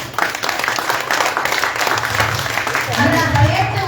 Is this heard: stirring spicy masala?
no